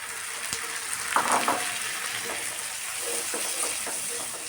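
Onions sautéing with turmeric and chili in a hot pan: a steady, close sizzle runs throughout, broken by a few scraping stirs.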